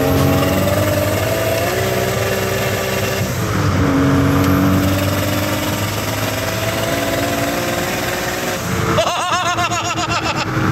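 A BMW accelerates hard in a straight line, its engine roaring loudly and steadily with rising pitch shifts, recorded from inside the car.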